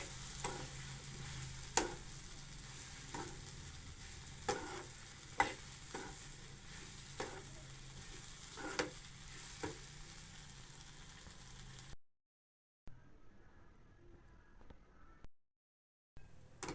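Chapati noodles stirred and fried in a pan, a low sizzle under regular knocks of a spoon scraping and tapping the pan roughly every second, fairly quiet, then the cooking sound cuts out near the end.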